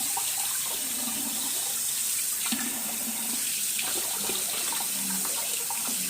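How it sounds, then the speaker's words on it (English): Tap water runs steadily as a soap-making tool is rinsed under it to wash off gold colorant, a broad continuous splashing stream close by with no talking. "Rinse off my gold as much as I can off of this."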